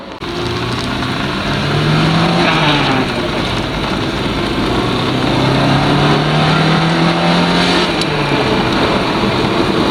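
Car engine running hard on a test drive after an engine bay rebuild, a loud, continuous roar with rising and falling revs as it accelerates and shifts, with no talk.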